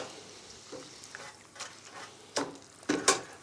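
Food frying in a deep fryer at around 160 to 170 degrees: a soft bubbling sizzle under clattering knocks and scrapes of utensils, several sharper clinks toward the end, close by, no voices.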